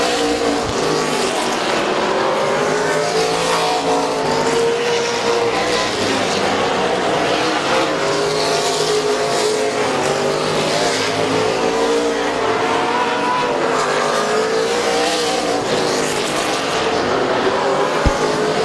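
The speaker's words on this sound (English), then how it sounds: "Laps to go for the number 75 of Bob Sarch." Race cars lapping Midvale Speedway, a continuous loud roar of several engines revving and droning together close by, with a track announcer's voice faintly mixed under the noise.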